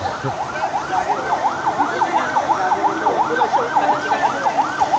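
A loud ambulance siren wails continuously in a fast, repeating up-and-down pattern, close and dominant over faint road noise.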